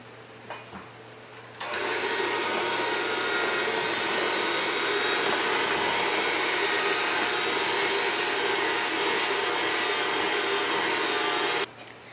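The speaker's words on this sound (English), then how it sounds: "now that we have all that mixed in and ready with the mixer" An electric mixer runs continuously through oatmeal creme pie dough with rolled oats, baking soda, salt and cinnamon, a loud even whir starting after a quiet moment and cutting off near the end.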